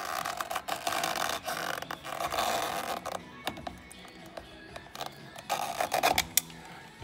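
A pry tool works loose the plastic centre trim of a Land Rover Discovery steering wheel, giving close, irregular clicks, scrapes and sharp plastic snaps in bursts.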